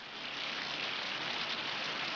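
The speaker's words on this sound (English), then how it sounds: "It's starting to rain." Steady rain pattering on a roof, a dense even hiss throughout at moderate, close range with no voices.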